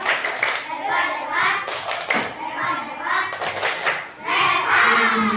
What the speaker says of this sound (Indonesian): Kalau begitu kita berikan tepuk hebat untuk Adib.